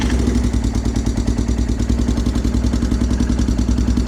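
A Yamaha Grizzly 600 ATV engine idles close and loud with a fast, even chugging pulse and a light mechanical clatter running throughout.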